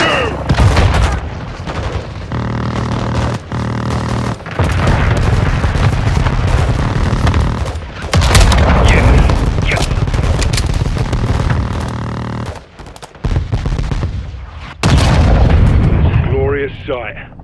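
An air strike hits a building in Call of Duty Modern Warfare II, with heavy booming blasts and rumbling explosions in repeated loud bursts, broken by short gaps, while radio voices talk over the action.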